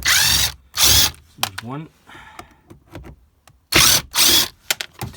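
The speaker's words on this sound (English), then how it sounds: "let's get these screws out to see if it makes any difference in it moving" Power drill backing screws out of a caravan body, several short loud bursts of whirring separated by pauses, close up, with someone talking in between.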